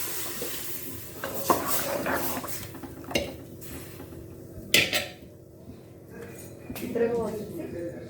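Hot tempering with asafoetida is poured into tomato rasam and sizzles, with pot and utensil clatters in between, while a voice talks over the cooking.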